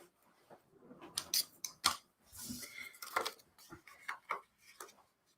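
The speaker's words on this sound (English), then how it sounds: "we'll just snip off this little edge that's peeking out from behind" Scissors snip the edge off a paper scrapbook page, a quiet series of sharp, crisp cuts in uneven bursts with faint handling rustle between them, close by.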